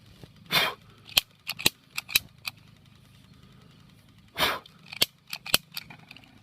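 A lighter igniting gas from a KEEP wood gasifier: two soft, breathy whooshes of ignition mixed with a series of sharp, close clicks from the lighter, with no voices.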